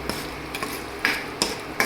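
Chutney tempering sizzles in a hot pan, broken by a few sharp stirring knocks and clicks at irregular intervals, close and fairly loud with no talking.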